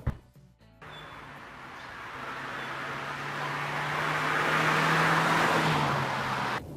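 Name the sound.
Mercedes-Benz C180 car driving in Eco mode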